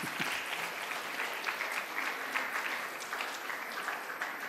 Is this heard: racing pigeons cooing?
no